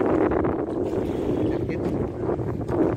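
Wind buffets the microphone while kayaking on the water in Goa, a loud, constant low roar and rumble throughout.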